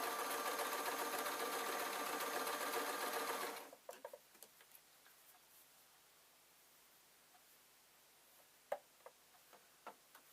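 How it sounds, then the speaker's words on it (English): A sewing machine runs a continuous stitching seam across fabric lining pieces for a small earphone case. It hums steadily for a few seconds, then cuts out, leaving only faint scattered clicks and ticks. "I'm going to sew up this line"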